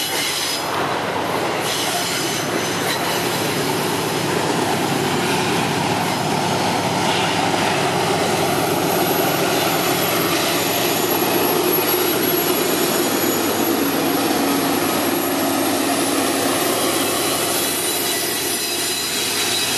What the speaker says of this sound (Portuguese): Aqui vemos a locomotiva